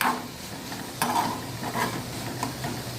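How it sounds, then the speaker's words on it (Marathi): Chopped onion sautés in a pan for an eggplant bharit, sizzling softly while a spoon scrapes and stirs in quick bursts, close and with no talking. "कांदा थोडा आपण परतून घेऊया व्यवस्थित"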